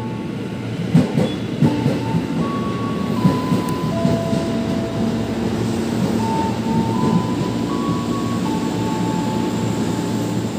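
A commuter train rumbles through Bekasi Timur station in wind-driven rain, with a loud, continuous roll of wheels, rhythmic clatter on the rails and high squealing tones from the train.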